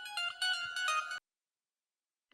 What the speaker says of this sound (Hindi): ये किसका फोन आ रहा है?